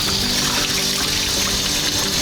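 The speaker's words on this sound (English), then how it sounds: "All the water taps are coming back on." Water runs steadily from a tap in a thawing, remote northern Canadian setting, a continuous close hiss and splash that stays even throughout with no voices.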